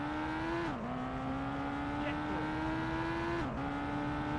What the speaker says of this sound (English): we'll handbrake it out of the junction and retake the lead